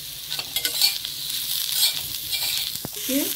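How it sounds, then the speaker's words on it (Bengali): Bitter gourd fries in oil in a pan, a continuous close sizzle with a few light stirring scrapes and clicks, steady and moderately loud with no talking. "উচ্ছেটা একটু ভাজা ভাজা হবে, ভালো করে ভেজে তারপরে দেখাচ্ছি"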